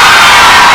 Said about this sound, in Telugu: అందుకని ఇప్పుడు మీరు అందరూ ఏం చేయండి అంటే గట్టిగా చప్పట్లు కొట్టకుండా అరవండి